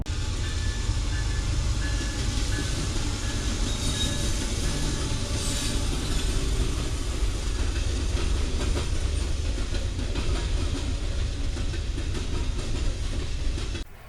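A CSX manifest freight train rolls past close by at Kingston, Georgia, with steady, loud clickety-clack of wheels over rail joints and occasional wheel squeal throughout.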